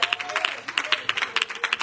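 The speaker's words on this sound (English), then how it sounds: "Come on, saints, and clap your hands." A church congregation claps during a worship service, with a steady rhythmic clap roughly every beat. The claps sound moderately close, with singing or voices faintly underneath.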